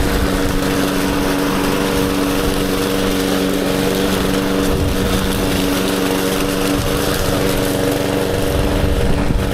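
A lawn mower runs continuously at a loud, close, steady drone with a buzzing engine note and no change in pitch, while gardening on a farm, with no voices.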